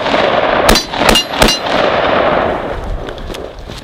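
Gunfire rings out in a Christmas-themed run-and-gun video game, with several loud, sharp metallic shots over a dense, noisy backdrop of game effects.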